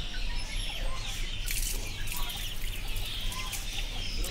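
Chickens and baby chicks cluck and chirp on a small home chicken farm, with a steady chorus of calls and a rooster-like squawk carrying throughout over faint background noise.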